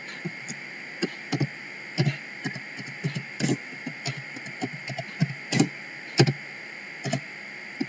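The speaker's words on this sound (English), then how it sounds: "I want to type here SFX" Keys clatter on a computer keyboard during an MS-Excel lesson, with irregular bursts of close, crisp clicks and taps, some louder strokes standing out over a steady faint background hum.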